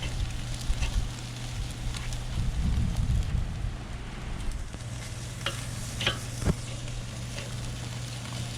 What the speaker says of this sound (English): The ribeyes are starting to get almost finished on the sear